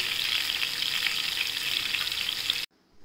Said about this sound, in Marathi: तेलात चांगल्या मिरच्या तळून घेऊ